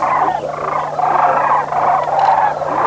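A dense flock of sandhill cranes flying over, overlapping rolling, trumpeting calls that rise and fall continuously at close range.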